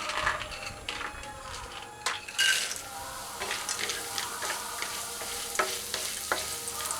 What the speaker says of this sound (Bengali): বড়িগুলো ভেজে নেব, খুব ভালো করে একটু লাল লাল করে ভেজে নেব